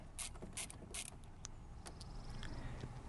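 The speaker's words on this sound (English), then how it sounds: "we're gonna take out the two bolt from the top using the 10 millimeter socket" A 10 mm socket wrench turning out the top headlight bolts on a 2007 Kia Spectra, with quiet ratcheting clicks and creaks spread over a few seconds, close up and faint, with no talking.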